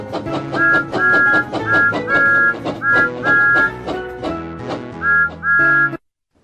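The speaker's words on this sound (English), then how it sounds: "Pull down on the Wii remote to blow the whistle." In the Thomas and Friends Wii video game, a steam engine's whistle toots again and again in short, high, steady bursts over bouncy background music, which stops abruptly at the end.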